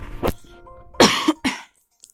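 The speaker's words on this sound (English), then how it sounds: "Sorry guys, I had to cough." A single person coughs a few times in quick succession, close and loud, with a short throat-clearing burst, then quiet.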